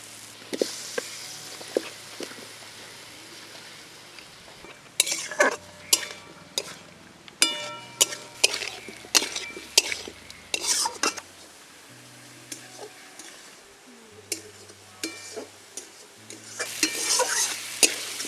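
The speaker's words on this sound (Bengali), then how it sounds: "তো এবারে দিয়ে দেবো আমড়া থেতোগুলোকে।" Crushed hog plums dropped into a frying pan for a sour-spicy amra jhalda, then stirred: sharp clanks and scrapes of a spoon against the pan in irregular bursts over a soft background sizzle, close and clear.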